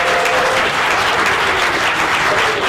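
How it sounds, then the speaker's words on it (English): An audience at a gaming convention claps in loud, sustained applause for players, dense and continuous from start to finish. "Can we have a round of applause for these wonderful players?"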